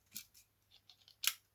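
The small scissors of a Victorinox Outrider Swiss army knife are opened with a few faint, crisp metallic clicks and light snips, ending in one sharper click, close up and quiet.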